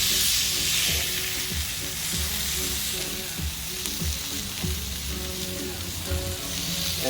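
Steak sears steadily in a hot pan for a smoked tri-tip surf and turf, a dense continuous sizzle close by with occasional scraping and thumps as the meat is moved, no talking.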